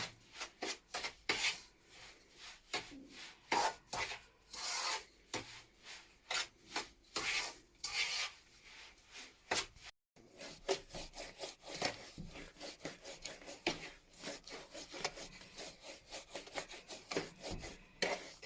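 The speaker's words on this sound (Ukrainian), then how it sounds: "Гарненько перетираємо цукор з жовтками." Sugar being rubbed together with egg yolks in a bowl for Easter bread dough, a steady scraping, grinding rasp with a quick repeated rhythm, close and fairly loud, running continuously with a brief break midway.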